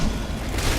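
A grenade goes off in the video game Gigantic, a short, loud, broad boom filling the whole moment.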